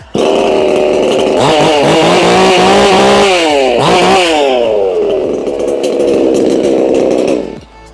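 A Black Bull 6000 chainsaw engine roars loudly and close, revving up and down several times before settling into a steady high idle that cuts off at the end.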